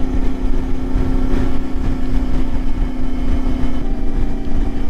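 A Ibex 450 motorcycle engine with an ECU upgrade and Akrapovic slip-on exhaust idles steadily and loudly up close, a continuous low throbbing rumble with no voices.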